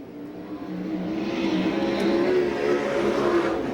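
A USAC National Sprint Car on a qualifying lap at Rossburg, Ohio roars past, its engine note building and swelling steadily, heard from a moderate distance.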